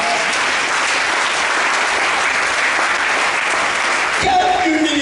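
A church congregation applauding the Lord, dense continuous clapping that fills the room loudly, with a few voices rising near the end.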